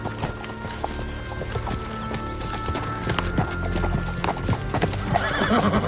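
Hooves clip-clop steadily while a horse neighs, with rustling and clatter throughout and a whinny rising near the end.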